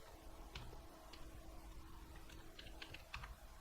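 Someone types steadily on a computer keyboard while using the Ubuntu MATE 18.04 Linux desktop, producing a string of light, close plastic clicks at an irregular pace with no talking.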